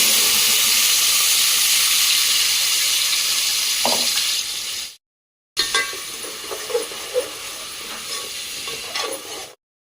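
Tomatoes dropped into hot oil during egg biryani prep give a loud, steady sizzle that cuts off briefly, then resumes with crackling bursts and a few stirring clinks, with no talk.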